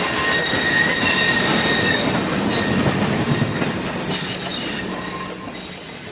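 An ACE commuter train squeals loudly as its wheels grind to a stop at a station, high metallic screeching sustained throughout over rumbling rail noise that slowly fades.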